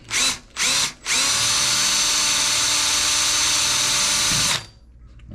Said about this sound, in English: you're just going to drill this rivet out